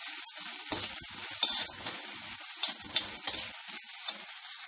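Dal with salt and turmeric stirred in a pan for an ajwain-leaf dal, repeated close scraping and stirring strokes over a bright crackling sizzle, no voices.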